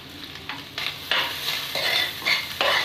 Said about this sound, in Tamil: நான் துருவி வச்ச தேங்காய் மிக்ஸ் பண்ணிக்கிறேன்